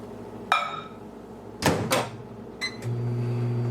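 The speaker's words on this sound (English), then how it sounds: "I'll put it in the microwave" A microwave oven used to melt butter in a bowl: the door clicks and thumps shut, buttons beep twice, and a steady low hum starts as it begins running, close and clear.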